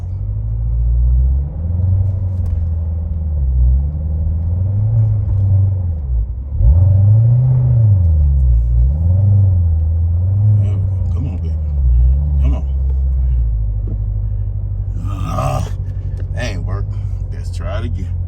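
A tuner car at a Chicago World of Wheels show rumbles with a deep exhaust drone while the engine is revved in rising and falling swells trying to climb into staging, close and loud, with someone talking over it.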